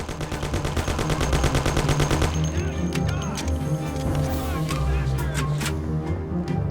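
A Tommy gun fires in Mafia, a rapid, close, steady burst of automatic fire over the first couple of seconds, then scattered shots and clatter.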